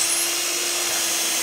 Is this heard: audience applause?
no